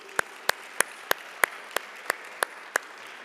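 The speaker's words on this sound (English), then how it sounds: "Thank you for helping start the clapping right there." Nine slow, evenly spaced single claps ring out crisply in a quiet room at a college awards ceremony, one person clapping alone at a steady beat.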